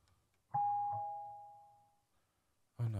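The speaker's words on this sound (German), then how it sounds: "Oh nein, es klingelt." A doorbell in The Closing Shift video game gives a single clear ding-dong chime that rings out and fades over a quiet room, followed by a burst of another sound at the end.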